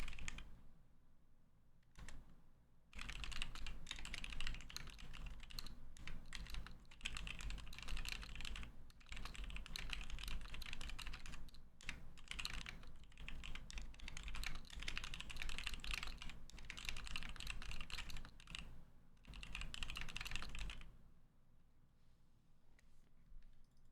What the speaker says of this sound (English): Me typing ASMR.